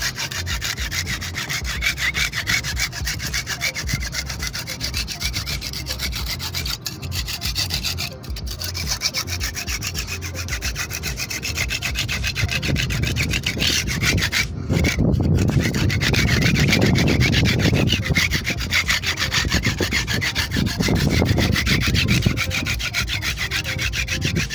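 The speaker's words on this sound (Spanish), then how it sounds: "Lo que voy a hacer solamente es raspar con mi espátula" A spatula scrapes steadily across a rough surface coated with homemade thinner-and-polystyrene waterproofing, a loud continuous rasping and rubbing that grows heavier partway through, with brief pauses.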